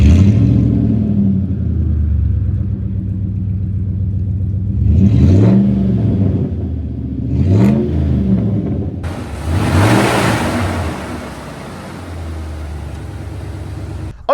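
A Dodge Ram 1500 pickup with its 4.7 liter V8 idling in a low steady rumble, revved briefly three times with rising and falling whines, then a broad hiss of air or fan noise joins in.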